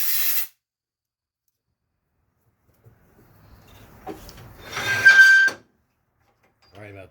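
A short burst of compressed air blows out the through-hole in a lathe headstock, a close hissing rush lasting about a second after a quiet pause, with brief talk at the start and end.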